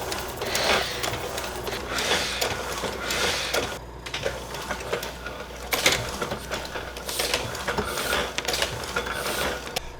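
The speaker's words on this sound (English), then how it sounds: "So now that it's printing well, I need to check to make sure that it's square." A Heidelberg Windmill letterpress printing press runs with a busy, rhythmic clatter of clicks and mechanical thumps repeating in steady cycles, loud and close, with no voices.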